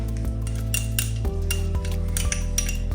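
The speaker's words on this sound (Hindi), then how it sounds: "सबसे पहले हम इसमें ऐड करेंगे ये जो है पेस्ट है लहसुन का" A spoon scraping and clinking against a bowl while garlic paste is mixed in, steady metallic scrapes and taps close up with no voices.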